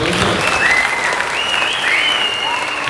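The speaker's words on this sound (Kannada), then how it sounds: "ಈ ತಂಡದ ಪರ್ಫಾರ್ಮೆನ್ಸ್ಗೆ ಒಂದು ಜೋರಾದ ಚಪ್ಪಾಳೆ ಬರಲಿ" An audience applauds a team after its stage performance at a Kannada story-drama event, producing loud, dense, continuous clapping mixed with a few crowd cheers and whistles.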